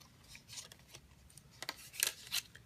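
Scissors snip a slit into a sheet of cardboard, a few short, faint crisp cuts with rustling between them, close and quiet.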